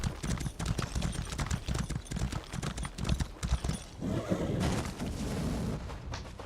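Rapid, rhythmic hoofbeats of a galloping horse in The Elder Scrolls Online: Summerset, steady and close, with a brief whinny-like rustle in the busy game soundscape.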